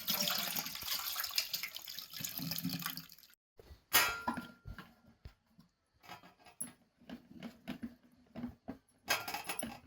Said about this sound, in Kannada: ಈಗ ಫಸ್ಟಿಗೆ ಮಿಡಿ ಮತ್ತು ಉಪ್ಪು ನೀರನ್ನು ಬೇರೆ ಮಾಡಿಕೊಳ್ಬೇಕು.